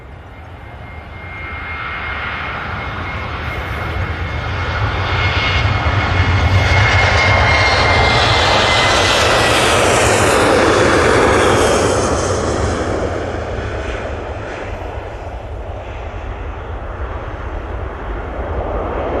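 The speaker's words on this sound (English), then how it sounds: "And spooling up, we have another Ryanair." A Ryanair jet airliner's engines spool up at Manchester Airport, a loud broad roar that swells over several seconds, holds, then eases slightly, heard close and alone.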